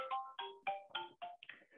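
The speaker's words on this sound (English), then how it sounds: "Sorry, that's my phone ringing." A mobile phone rings with a melodic electronic ringtone, a quick run of bright tonal notes repeating in short pulses, clear and alone with no talk.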